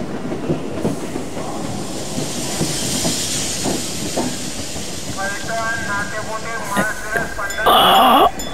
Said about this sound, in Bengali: কলকাতা থেকে ট্রেনে চেপে ধনেখালি স্টেশনে এসে নামলাম